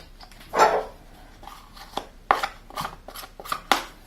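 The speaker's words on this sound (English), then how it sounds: "Gradually working the dry flour into the wetter ingredients." Dry flour being worked by hand into wet sourdough ingredients in a bowl, heard as a series of soft, scraping and squelching strokes at an irregular pace, close and fairly quiet with no talking.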